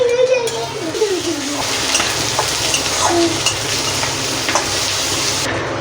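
Crushed green chilli and garlic go into a pan of browned onions and sizzle loudly, with a spoon stirring through them. A voice talks over the start, and later a brief tonal squeak rises above the steady frying hiss.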